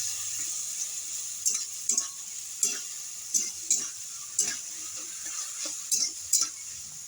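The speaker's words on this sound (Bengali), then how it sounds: "এইবার আমি এই যে ব্যাটারটা করে রেখেছি চিলি, এটা আমি দিয়ে দেবো। এর সঙ্গে মিশিয়ে নেব।" Chili batter of flour being stirred into a frying pan with onion, tomato and capsicum, giving a soft steady sizzle broken by repeated scraping strokes of a spoon, close by, with no talk.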